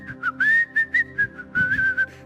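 A person whistles a melodic tune alone, bright bending notes in short phrases with brief pauses between them, close and clear.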